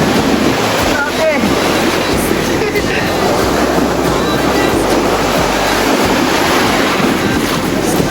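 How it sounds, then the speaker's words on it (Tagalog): Large, high surf pounding steadily on a beach at Gumaus during a group outing, a dense continuous wash of breaking waves close to the microphone with wind buffeting, and people exclaiming now and then over it. "Ang taas ng alon."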